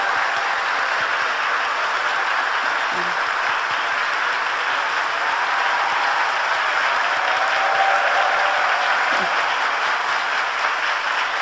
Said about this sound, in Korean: 자리에서 일어나실 때 따뜻한 박수로 환영해 주시기 바랍니다.